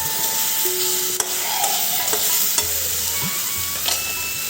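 Dried red chilies and panch phoron spices sizzle and crackle steadily in hot oil while being stirred, with a few sharp clinks of a utensil against the pan.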